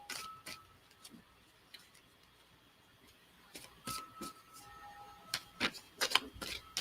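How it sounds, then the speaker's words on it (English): Tarot cards being shuffled during a live reading, a scattering of soft crisp riffles and taps that are quiet at first and then grow denser and louder toward the end, with no talking. "I'm going to shuffle one more time"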